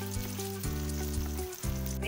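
Round fig (dumur) pakora fritters fry in a little oil on low flame, giving a continuous soft sizzle and crackle close up beneath background music.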